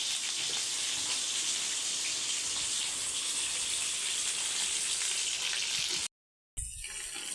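Fish fries in hot oil in a pan, a dense, loud, unbroken sizzling hiss that fills the clip before cutting out abruptly near the end, then returning more faintly.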